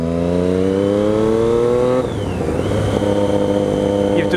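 A Triumph Street Triple motorcycle with an SP Engineering race exhaust revs loudly with rising pitch, then drops sharply and climbs again in a second aggressive rev, raw exhaust roar throughout.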